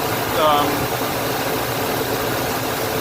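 A Ford F-250 truck engine runs after its starter motor has cranked it over: a steady, close mid-pitched idle with a constant rumble and a brief whine near the start, with a voice speaking over it.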